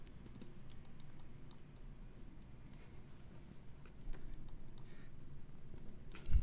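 Rapid bursts of computer keyboard typing during 3D modeling work in Rhino, soft close clicks in quick clusters over a low room hum, with no talking.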